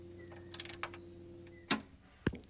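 A ratchet clicks in a quick run of five or six ticks as a nut is snugged down during a Toyota Sienna battery replacement, followed by two louder metallic clunks, all close and with no talk.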